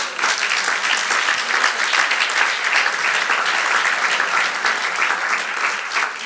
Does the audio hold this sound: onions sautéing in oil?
no